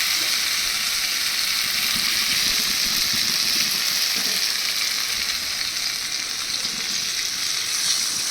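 Water is poured into a pan of fully fried spice paste that has released its oil, for a thin fish curry with ridge gourd and potato. A loud, constant hissing sizzle runs close and unbroken throughout.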